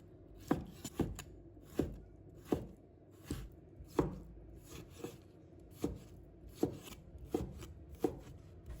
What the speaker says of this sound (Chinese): 片切好后，把它切成丝